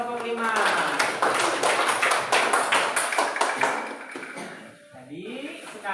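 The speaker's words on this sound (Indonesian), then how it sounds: "Tepuk tangan untuk kelompok 5." Applause from a classroom audience for presenting group five during a teacher coaching session, a dense continuous patter of many hands clapping close by for about five seconds before fading, with a voice starting to talk at the end.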